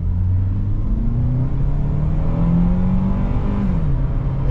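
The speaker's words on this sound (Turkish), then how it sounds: "Egzoz sesi çok güzel ya." A Honda Accord 2.4 i-VTEC engine revs hard with a deep, throaty exhaust note, rising and falling in pitch, loud and close throughout.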